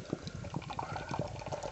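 Farsons Cisk pale lager, 4.2%, poured from a can into a glass, giving a close, steady splashing gurgle with bubbly fizz that runs continuously for a couple of seconds.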